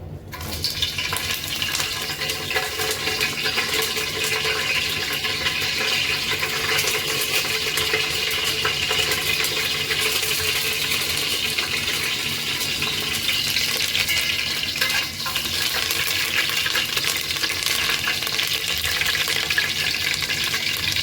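Curry leaves spluttering in hot oil for vegetable avalakki, a steady dense crackle and hiss that runs continuously and fairly loud with no voices.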